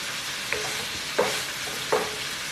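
Italian sausage browning in a hot pan for kimchi fried rice, a steady sizzle broken by three sharp scrapes and stirs of the meat at regular intervals.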